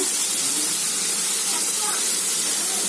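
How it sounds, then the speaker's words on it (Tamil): Onions sautéing in a pan for dried fish (nei meen karuvadu) thokku, a steady close hiss and sizzle running unbroken throughout, with faint background noise underneath. "வெங்காயம் நல்லா வதங்கதுங்க நல்லா வதங்கினால டேஸ்ட் வருங்க"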